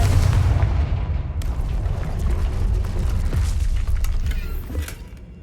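A Confringo spell in Hogwarts Legacy erupts in a deep, rumbling explosion, loud and booming, with crackling debris and a long low roar that fades near the end.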